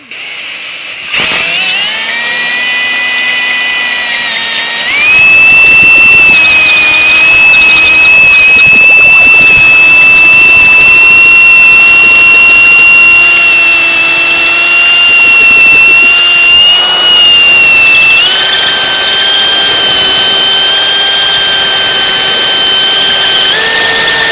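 A Matco Tools HyperStep step drill bit bores into metal with a loud, close, sustained whine that steadies after a brief start, shifting pitch slightly partway through as it cuts, with no voices.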